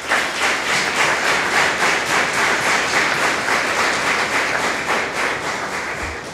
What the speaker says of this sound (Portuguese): Vamos louvar o Senhor com as nossas palmas